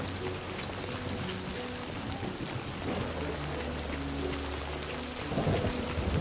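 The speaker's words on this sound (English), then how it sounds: "Look at the rain" Steady heavy rain pours throughout with low rumbling thunder underneath, swelling louder near the end, in a stormy outdoor scene from the video game Death Stranding 2.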